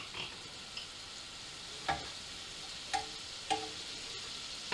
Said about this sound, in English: Alright, the pan's heated. Let's get some butter in the pan.